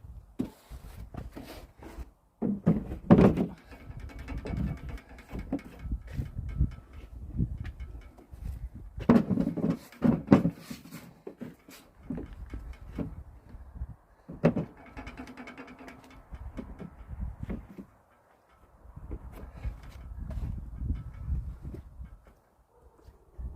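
Covers going back onto a Norwood LM30 sawmill after a blade change, heard as scattered clanks, creaks and metallic handling knocks at close range with bursts of rattling and pauses between.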